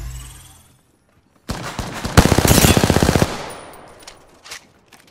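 Sustained automatic gunfire in Apex Legends erupts after a quiet stretch, a loud rapid burst with a steady rhythm that cuts off, followed by a few fainter scattered sounds.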